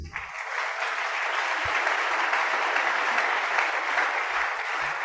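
A church congregation breaks into loud, steady applause, many hands clapping together in a dense, sustained wash that fills the room for several seconds.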